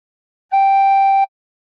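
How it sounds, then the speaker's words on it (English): A single tin whistle note played with fingers 1 and 2 covering holes 1 and 2 and blown harder, a steady pure tone with clear overtones lasting under a second, heard alone and close. "Put fingers 1 to 2 on holes 1 to 2 and blow a bit harder once."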